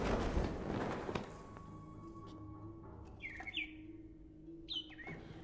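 Bird chirps in a film scene, several short bright tweets in two brief bursts over a quiet background with a low hum and a soft thud near the start.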